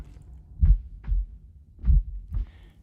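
A muffled heartbeat plays as an effect during a dramatic reading of Edgar Allan Poe's story, with four deep, soft thumps arriving in two paired beats.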